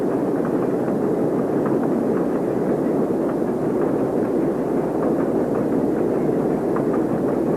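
A locomotive engine used in both passenger and freight service runs with a loud, continuous, steady rumble that does not let up for several seconds.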